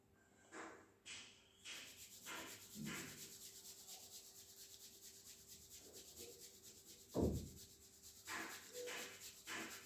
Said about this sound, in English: Rubbing the hands to create heat.